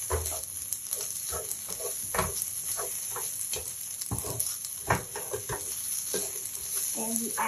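Sweet corn for healthy fried rice sizzles in a pan as it is stirred, a continuous moderate hiss dotted with regular scraping and tapping strokes from the utensil.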